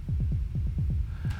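Sub-bass kick drum with reverb in an electronic track: about ten deep, booming thumps in a fast, even pulse, each with a short downward pitch sweep and a smeared tail, loud and alone.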